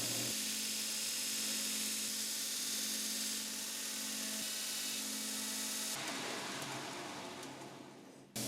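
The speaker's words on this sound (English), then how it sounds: "now we can finally test this new belt sander" A new belt sander in a knife-making workshop runs steadily and loudly with a continuous motor whine, then its tone changes partway through as the belt engages the work, before a brief cut-off at the end.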